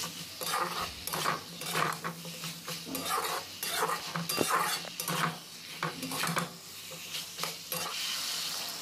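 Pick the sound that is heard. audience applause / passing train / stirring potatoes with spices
stirring potatoes with spices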